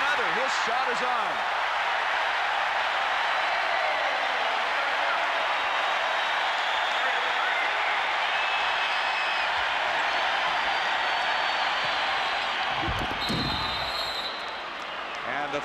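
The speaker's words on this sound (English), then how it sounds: "Crowd really reacting to how well this Minnesota team is playing" Basketball arena crowd at a 1990 Minnesota Gophers men's college game against Indiana, cheering and applauding in a loud, steady roar that fills the whole stretch, with a ball bounce near the end and commentators talking over it.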